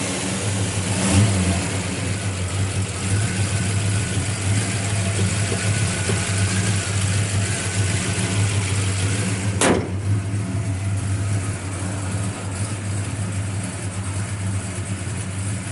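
A 1971 Pontiac GTO engine rumbles steadily through its exhaust, a loud, close, continuous low idle with light revving and one brief sharp click partway through, with no talking.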